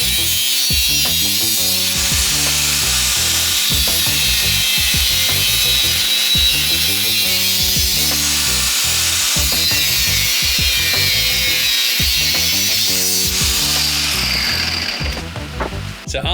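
A loud power tool cuts a part off a wrecked Ducati 959 being converted from road bike to race bike, whining and grinding continuously and close up for about sixteen seconds before tapering off at the end.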